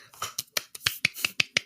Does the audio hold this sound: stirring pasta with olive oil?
no